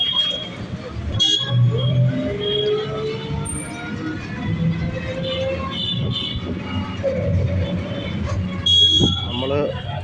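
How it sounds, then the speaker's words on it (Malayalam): A roadside vegetable market in Kerala is full of traffic noise, with vehicle horns sounding over a dense background of engines and crowd noise while a person talks. "ഹോണടിയോട് ഹോണടി."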